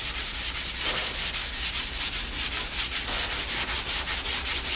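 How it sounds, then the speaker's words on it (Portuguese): Steady sanding of a car door: rapid, even back-and-forth strokes of abrasive rubbing against a hard surface, close by and continuous, with no voices. "eu vou lixando essa porta"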